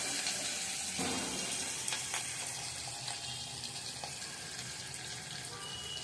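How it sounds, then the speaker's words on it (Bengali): Onions frying in hot oil in a pan, a steady broadband sizzle that fills the whole stretch with a few faint clinks, close and fairly loud with no talking. "পেঁয়াজটা দিয়ে দিচ্ছি। পেঁয়াজটা লাল লাল হয়ে ভাজা হোক।"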